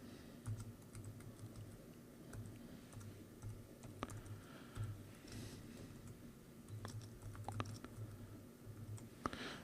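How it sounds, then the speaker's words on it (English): Fingers typing text on a computer keyboard, soft irregular key clicks in quick bursts with short pauses, faint and close in a quiet room, no voices. "And I'm just going to type in some text here."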